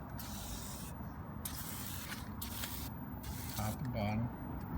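Cleaner sprayed from a spray bottle onto the rail of a CNC Shark machine in a workshop: several bursts of hissing spray, close and fairly soft, under a steady background noise.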